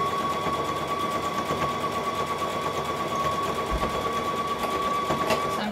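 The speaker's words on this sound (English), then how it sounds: "So I'm stitching across there and then I'm going to pull out the pins" A sewing machine stitches across pinned fabric while sewing a Vogue 9345 pattern. It runs in one continuous, fast mechanical rattle that stays close and steady throughout.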